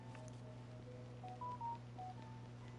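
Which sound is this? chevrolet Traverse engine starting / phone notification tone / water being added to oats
phone notification tone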